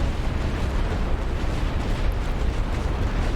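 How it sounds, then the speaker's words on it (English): Light artillery fire in the World War I strategy game The Great War: Western Front, a loud, rumbling barrage of overlapping booms forming a continuous roar. "I'm just going to hit these guys with light artillery as well"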